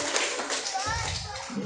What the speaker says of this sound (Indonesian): Tepuk tangan dulu untuk kita semua lagi, sekali lagi yang telah hadir.